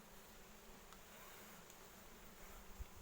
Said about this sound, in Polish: No pszczoły jest dużo.